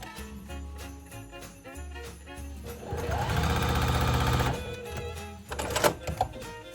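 A sewing machine stitches quilting binding strips, running as a rapid mechanical whirr of needle strokes for a couple of seconds, with brief starts and clicks before and after and no speech.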